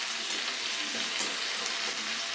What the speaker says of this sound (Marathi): मिरची अद्रक आणि लसूणचे जे पेस्ट आहे आपण ते पेस्ट आपण टाकतोय आता